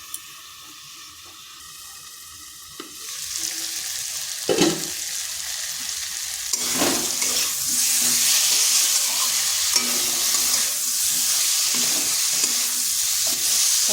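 Parwal and pumpkin stir-fried in a pan for a vegetarian dish: a loud, close sizzle and hiss that rises after a quieter start, with occasional scraping stirs and clatters, and no talking.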